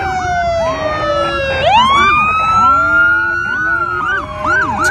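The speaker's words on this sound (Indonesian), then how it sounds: "di sini ada motor polisi." Toy police motorcycle sounding an electronic siren, with bright, close wailing tones that sweep up and down in quick, overlapping cycles and no talk.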